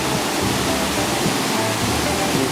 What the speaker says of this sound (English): That river is raging.